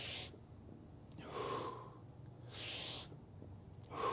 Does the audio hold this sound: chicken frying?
no